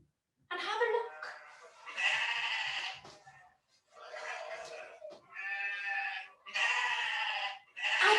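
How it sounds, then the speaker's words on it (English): Several drawn-out bleats from a sheep, each a second or two long, separated by short pauses and fairly close. "I think it sounds like a sheep."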